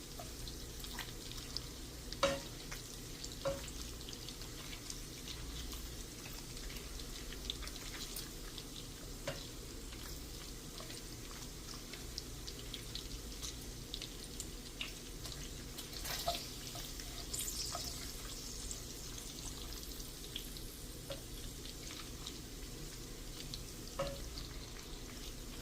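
Bacon frying in boiling fat in a pan, a faint, steady crackling sizzle with scattered small pops and occasional clinks, continuing evenly without any voices.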